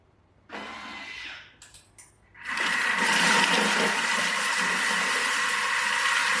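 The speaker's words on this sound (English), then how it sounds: "the Thermomix, we're going to turn it on and we're going to melt it at 100 degrees for about 2 to 3 minutes at speed 2" Thermomix mixer running steadily at speed 2 while melting chocolate at 100 degrees, a loud continuous motor whir that starts after a few brief stop-start bursts and holds evenly to the end, with no talk.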